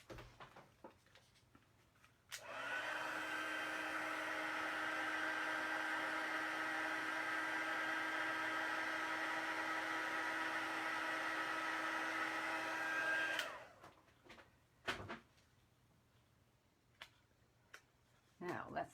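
A handheld heat tool blows hot air over a paper stamping craft project, a steady whooshing hum that switches on, runs loud and even for about eleven seconds, then cuts off, leaving faint ticks and small handling noises.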